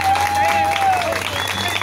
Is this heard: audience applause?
yes